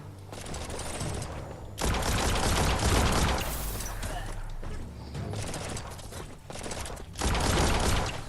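Bursts of automatic gunfire from the action video game Biomutant rattle in rapid fusillades, loud and close, coming in several separate volleys with brief pauses between them.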